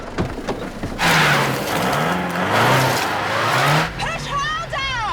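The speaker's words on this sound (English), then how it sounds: "Just rev it!" A car engine revs hard and steadily while the vehicle sits stuck in a muddy field, its roar running loud for several seconds as people talk and shout over it.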